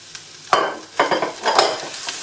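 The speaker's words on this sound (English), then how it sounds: "It should start sizzling." Sweet potato, chayote and red and orange bell peppers sizzle in a pan, with three distinct bursts of frying and stirring, each swelling and fading, against a quieter sizzle in between.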